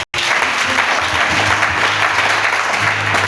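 A church congregation at a French-language seminar service breaks into loud, sustained applause close by, dense and continuous after a split-second gap at the start.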